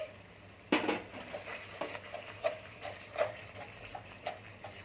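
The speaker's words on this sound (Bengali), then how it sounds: "নুনটা দিয়ে নেড়ে নিচ্ছি।" Curry for restaurant-style matar paneer being stirred in a pan after salt and a little water go in, giving a sharp utensil clink and then a run of soft, evenly spaced scrapes and taps, close and moderately quiet.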